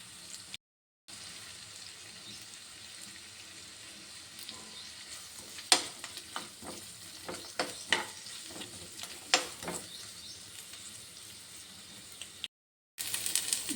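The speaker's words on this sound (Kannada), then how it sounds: "ಸ್ವಲ್ಪ ಫ್ರೈ ಆಗಿ ಕೆಂಪಗಾಗಲಿ ಸ್ವಲ್ಪ" Onions frying in a pan until reddish, with a steady close sizzle and repeated stirring scrapes of a spoon through the pan, with no talk.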